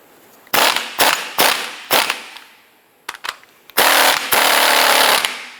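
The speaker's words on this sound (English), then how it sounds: "I'm going to go ahead and loosen this nut" A strut spring nut being loosened on a 2007-2012 Nissan Versa front strut, heard as several loud, sharp bursts of an impact wrench hammering in short blasts, ending in a longer sustained run, close up and without speech.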